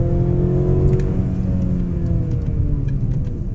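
A 2023 Mercedes-Benz GLC 300 AMG Line pulls away from a standstill, its engine note rising steadily as it accelerates, heard from inside the cabin with a smooth hum and some road rumble.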